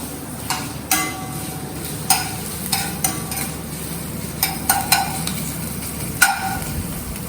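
A utensil stirs chopped chilies in a hot pan while making sweet and sour paneer: sharp scraping clanks land at irregular intervals over a continuous low sizzle, close and fairly loud, with no speech.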